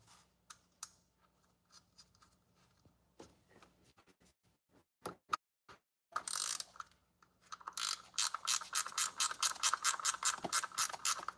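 A ratchet wrench clicks rapidly in repeated bursts while carbon fiber velocity stacks are fitted to an engine, preceded by scattered taps and handling of parts, close and clear with no talking.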